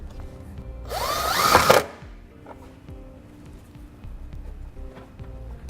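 A power drill drives a self-tapping screw through a ring terminal while a Roadmaster 4-diode towed-vehicle wiring kit is installed: one short whirring burst that rises in pitch, then quiet shop ambience with faint knocks.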